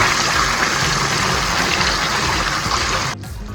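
Oyster sauce pouring into a pan for a simple fern (pako) dish in a provincial kitchen, a steady close wet gushing sound that runs unbroken for about three seconds and then drops off sharply.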